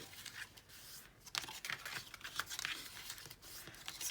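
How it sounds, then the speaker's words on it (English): Burnishing the folds of a paper box for clock cards: quiet, close scraping and crinkling strokes of a tool rubbing along creased paper, in short irregular bursts. "you need to burnish all your folds"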